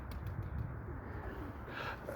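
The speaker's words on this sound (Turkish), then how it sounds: "Yani benim kümeste kuş çok." Low, soft pigeon-like cooing from many birds close by in a coop, repeated against a dull background hum, with no one speaking.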